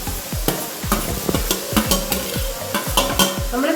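Thick-cut slices of oiled banana flower hit a hot pan and are stirred for a Kerala-style thoran, giving a steady sizzle broken by regular scraping strokes of the spoon, close and fairly quiet.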